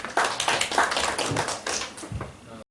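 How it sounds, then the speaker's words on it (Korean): Audience clapping at a labor forum on apartment workers in Bucheon, fairly close and uneven, with distinct hand claps for a few seconds before cutting off abruptly. "힘찬 박수 부탁드리겠습니다"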